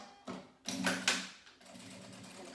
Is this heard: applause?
no